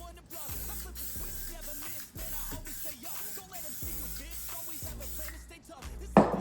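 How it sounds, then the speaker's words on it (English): SC1 silicone spray misted onto the plastics of a 2002 Honda CR250 motorcycle, a steady close hiss running almost unbroken with brief pauses, then a louder clatter at the end. "And we'll spray the SC1 and wipe it in with the paper towel."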